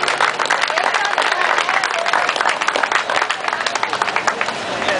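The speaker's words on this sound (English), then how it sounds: "can we get a round of applause for them?" A crowd claps at an outdoor police torch run event, a steady spread of applause from many hands at moderate distance with faint crowd chatter mixed in.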